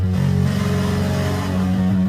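A Super Mario Bros. jump sound, pitched two octaves down and pushed through heavy distortion, holds as a thick, buzzing, sustained tone like a revving engine for about two seconds, loud and steady with no voices.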